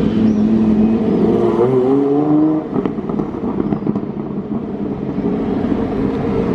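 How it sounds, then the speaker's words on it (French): A Ferrari F50 supercar arrives as a continuous engine roar, with a rising rev in the first couple of seconds. It then settles into a steadier rumble with wind buffeting, heard from fairly close outdoors and without talking. "Ferrari F50 qui débarque."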